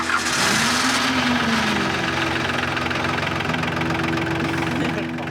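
A tractor engine idles close by with a steady low rumble and a faint knocking beat, running evenly throughout as a background drone, with a brief rising tone near the start.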